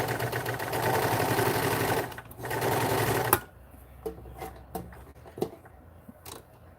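A 1943 Montgomery Ward sewing machine runs a long straight stitch, whirring loudly and steadily for about three seconds, then stopping, leaving a few faint clicks and handling noises.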